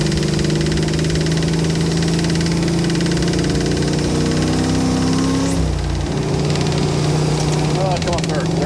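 The engine of a 1977 Chevy Monte Carlo with its timing off runs with a steady, humming rumble. Its pitch slides and shifts partway through as the transmission is manually shifted, and a voice briefly speaks over it.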